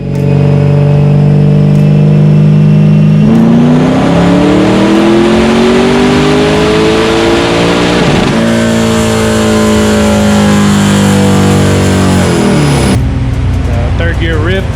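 A BMW with a swapped LS V8 engine revs hard on a dyno in a third-gear pull, its loud, steady roar climbing in pitch through the run before cutting off near the end.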